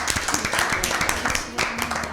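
Studio audience at an Easter Bible quiz claps briefly for a team, with quick, close hand claps over a room murmur and some voices.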